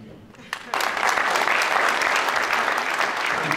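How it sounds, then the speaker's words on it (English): After a brief moment of quieter room sound, loud applause from a university lecture audience breaks out and holds steady and close to the end. "thank you so much and clap for me"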